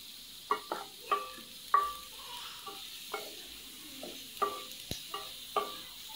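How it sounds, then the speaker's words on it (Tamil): Onions with curry leaves and salt sautéing in a pan for a fish puttu, a steady sizzle broken by repeated scraping stirs at an uneven rhythm, close and moderately loud with no talking. "இத நல்லா நம்ம வதக்கி விட்டுறலாம் அடி பிடிக்காத அளவுக்கு நல்லா வதக்கிடுங்க"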